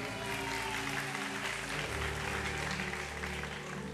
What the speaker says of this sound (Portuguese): Palmas para o Rodrigo.